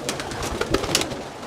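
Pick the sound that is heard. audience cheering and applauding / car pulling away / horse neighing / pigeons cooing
pigeons cooing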